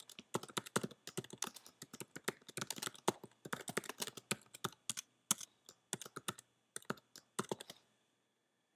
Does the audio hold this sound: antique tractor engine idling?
no